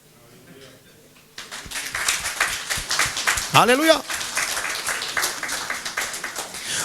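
A church congregation breaks into sustained applause after a short quiet stretch, the clapping rising and staying loud while a voice calls out over it.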